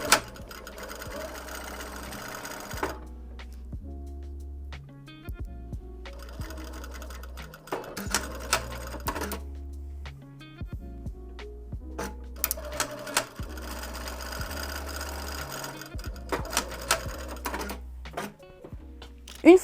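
Sewing machine stitching the seam of a turban at a 1 cm seam allowance, running in repeated bursts of steady mechanical whirring separated by short pauses and handling clicks, close and alone.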